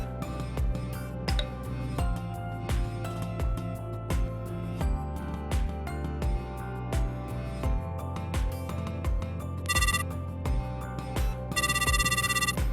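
A telephone rings as a steady repeating electronic tone pattern, played over a layered musical backdrop throughout, with a brighter burst of ringing near the end.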